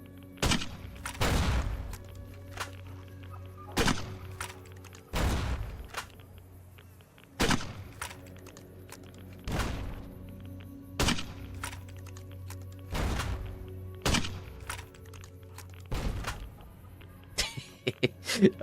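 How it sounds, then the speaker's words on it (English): Several heavy grenade blasts go off one by one in the Fallout: New Vegas video game, each a sharp thumping burst at irregular intervals, fairly close, with quieter ambient game sound filling the gaps. "Only took me 6 grenades to hit something."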